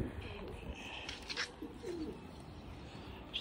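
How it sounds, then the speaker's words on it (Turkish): Soft, distant cooing of Dolapçı pigeons, a few low murmuring coos and faint chirps over quiet outdoor background noise, with no talking. "Kuşları da oraya çektik bir kısmını"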